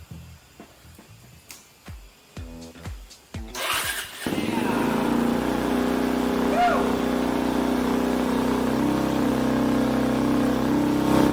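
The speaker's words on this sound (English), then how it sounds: "It jump-started a mid-sized bike with a dead battery" A mid-sized motorcycle with a dead battery, jump-started using a Battery Tender jump starter, cranks in a few stuttering bursts, then catches and settles into a loud, steady idle that runs on close by.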